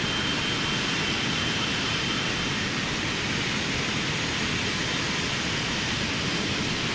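Boeing 777 jet engines roar at takeoff power in a flight simulator game, a dense, steady broadband rumble and hiss that runs unbroken throughout with no voices.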